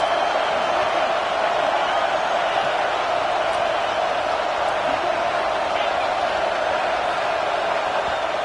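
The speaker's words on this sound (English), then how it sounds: "Listen to this crowd just shaking the girders of this place, trying to help their defense." Crowd at a college football game in a big stadium, a dense sustained roar filling the stands as the home fans try to rattle the offense, loud and unbroken throughout.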